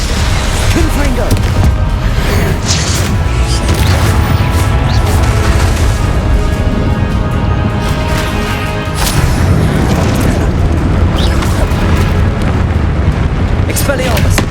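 Confringo blasting-spell explosions in the video game Hogwarts Legacy, loud repeated booms and crashes layered in dense battle noise, heard under a player's constant shouting voice.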